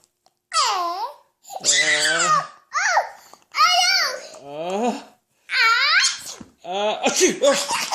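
A voice imitates a string of playful sneezes, about six separate exaggerated bursts with short pauses between, mixed with giggling and childlike babbling.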